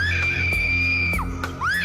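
A girl screams in a river in Itajubá, Minas Gerais, during a drowning. The long, loud, high-pitched scream is held, then breaks into a second rising cry, close and with no talking.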